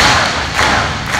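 A knife edge chop lands in a live wrestling match, a loud, sharp thud standing out over a noisy, cheering crowd, with a second impact-like burst following shortly after.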